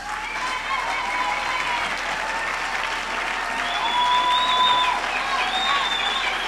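Audience applause at a university graduation ceremony on a main campus, a steady dense wash of many hands clapping in a large hall, sustained throughout with a faint tone sounding over it.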